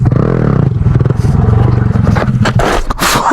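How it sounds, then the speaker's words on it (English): A small Honda Grom motorcycle revs hard up close during a wheelie attempt, its engine note rising and wavering, then breaks into clattering scrapes as the bike loops over. "This poor little Grom, dude. I've looped it like 6 times today."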